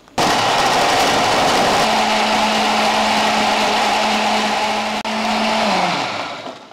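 Blender crushing ice for a mint margarita, a loud steady whirring roar running continuously for several seconds with a brief dip in pitch near the end as it winds down.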